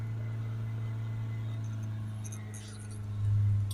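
A Vauxhall Vivaro 1.6 diesel van with an inlet air signal fault and a particle filter fault drones steadily close by, held at raised revs. The engine swells louder near the end.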